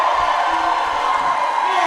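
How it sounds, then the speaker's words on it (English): Crowd at a Roller Derby World Cup match between Sweden and Scotland, a steady dense roar of cheering filling an indoor arena, continuous and loud, with a commentator's voice over it. "I hope you can hear the crowd at home"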